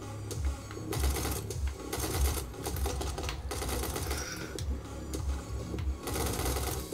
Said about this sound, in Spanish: Tiene sonido tan bajito que cuando disparas parece como si estuvieras cosiendo con una máquina de coser